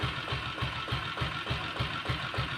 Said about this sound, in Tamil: வண்டி பீட் சவுண்ட் கேளுங்க, வண்டி பீட் எல்லாமே சூப்பராக இருக்கும்.